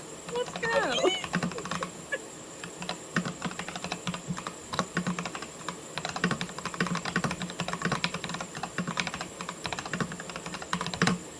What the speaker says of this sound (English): ferociously typing